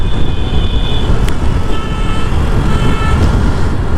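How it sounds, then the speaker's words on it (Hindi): National highway traffic roars loudly and steadily up close, with passing vehicles rumbling and a couple of short horn toots cutting through the continuous road noise. "जब भी मैं पहले निकल रहा हूँ तो इतना ट्रैफिक होता है और उसी की वजह से साउंड पोल्यूशन"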